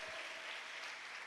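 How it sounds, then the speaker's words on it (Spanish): Church congregation applauding during a Spanish-language worship service, a dense, steady wash of clapping that fills the whole short stretch without pause. "Fuerte ese aplauso al Señor."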